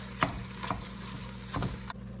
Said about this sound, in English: I have 2 tablespoons of oil and a pound of ground beef, and I'm letting this cook up a little bit, breaking it up